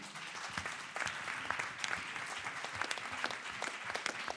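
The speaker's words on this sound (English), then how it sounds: "So let's have a clap hands for these amazing women." An audience at a PES Council event claps steadily for several seconds, a dense patter of many hands with no voices standing out.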